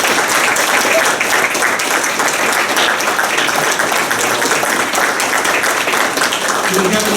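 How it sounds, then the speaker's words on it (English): Sustained applause from an audience at a community legislative breakfast honoring village board trustees and staff, dense steady clapping filling the room for several seconds. "please stand up and get a round of applause"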